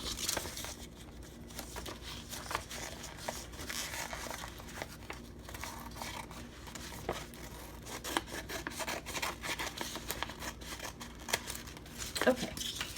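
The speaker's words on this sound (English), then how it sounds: "I have to deal with these big bulky scissors for today." Big, bulky scissors cut through paper around snowman shapes for a winter craft, with close rasping, crinkling snips running through the clip beneath steady low background noise.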